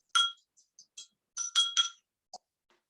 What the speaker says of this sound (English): So I'm just stirring it.